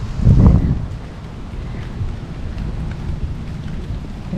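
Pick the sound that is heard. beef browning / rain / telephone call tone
rain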